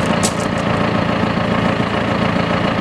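A 2009 John Deere 6430 tractor engine runs with the PTO engaged, a steady loud mechanical drone with no change in pitch and no voices.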